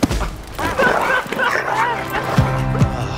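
A dog barks and whimpers in yips and short cries, close and loud, with people talking over and around it in a German film trailer scene.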